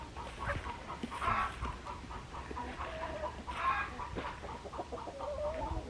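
Chickens cluck and squawk in an outdoor chicken yard, a busy scatter of close and farther calls with a couple of louder bursts, some sounding like rooster calls, over faint background noise.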